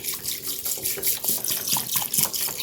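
Spring water is poured into a bowl for homemade rice water, a close splashing, gurgling trickle with uneven bursts and bubbling pulses running continuously for a few seconds.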